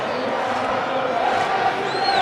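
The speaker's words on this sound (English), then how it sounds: "Crowd's still in good spirits." A football stadium crowd at a Sundowns versus Cape Town City match roars in a steady, loud wash of cheering and shouting, continuous throughout with no single voice standing out.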